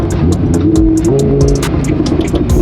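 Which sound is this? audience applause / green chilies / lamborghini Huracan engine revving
lamborghini Huracan engine revving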